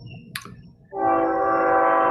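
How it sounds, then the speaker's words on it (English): A train horn blasts loud and sustained, a single long chord that starts abruptly and holds steady, preceded by a faint knock and quiet background. "That's a train horn."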